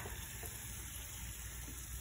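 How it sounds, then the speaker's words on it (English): Quiet, steady sizzling of food cooking on a hot grill, a soft crackling hiss with no voices. "It's sizzling."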